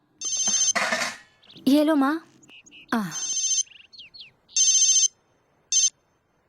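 A phone ringtone chimes in several short repeated bursts, fairly close, with a few brief spoken words from a woman and a child between the rings.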